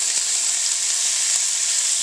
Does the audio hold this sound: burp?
no